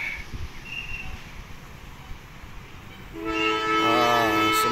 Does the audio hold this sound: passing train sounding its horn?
yes